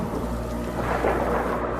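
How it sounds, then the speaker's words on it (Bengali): Heavy rain pours steadily while low thunder rumbles underneath, a dense, continuous storm sound effect for a cartoon, with no voices. "জোরে বৃষ্টি হচ্ছিল। মেঘের গর্জন যে কারোর মনে আতঙ্ক সৃষ্টি করার জন্য যথেষ্ট ছিল।"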